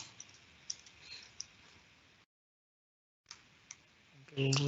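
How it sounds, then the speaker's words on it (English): Clicks from a computer keyboard being typed on, soft and sparse, in two short bursts split by a full second of silence. A louder, broadband noise cuts in at the very end. "I'm going to type in the ID name"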